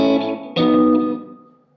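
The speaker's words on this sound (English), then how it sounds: "right now this is a Boss delay" A guitar run through a Boss delay pedal rings out in two struck notes, each one sustaining and trailing off into fading repeats, with no voices over it.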